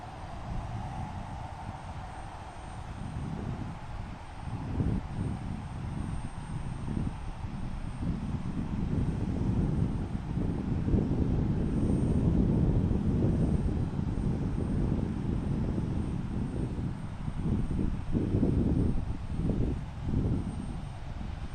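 A British Airways airliner arriving at Portland International Airport gives a broad jet-engine roar that swells and lingers for about twenty seconds, heard from a distance through gusts of wind buffeting the microphone, with no voices.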